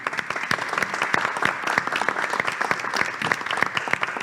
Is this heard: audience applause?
yes